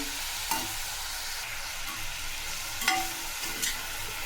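Spoon stirring dry spinach sabzi with moth bean dal in a pan, soft scraping strokes and a few distinct clinks over a faint steady hiss, no talk.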